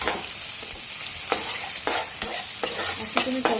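Onion sizzles in hot oil for a tadka for baingan bharit, a steady close frying hiss broken by repeated scraping strokes of a spoon stirring the pan, with no talking.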